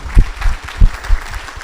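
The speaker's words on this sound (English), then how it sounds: "if we can have one more big round of applause for the Mayor" An audience applauding the mayor at a State of the City event in Los Alamitos, a short burst of close, loud clapping with strong thumps, no talk.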